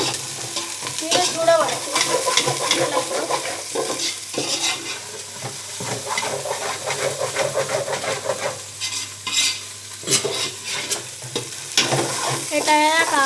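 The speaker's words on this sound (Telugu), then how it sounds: "తర్వాత ఆలుగడ్డను కూడా మిక్స్ చేసుకోవాలి ఫ్రెండ్స్" Potatoes being stirred in a pan for aloo biryani: close, busy scraping and clattering of a spoon against the pan over a steady frying sizzle, with brief speech partway through.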